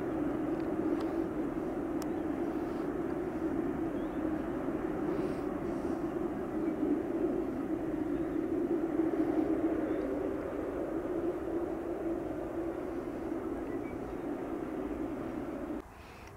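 Boeing 747-8 jet at Amsterdam Schiphol airport, its engines producing a sustained, loud roar that holds steady before cutting off abruptly near the end, heard from a distance outdoors.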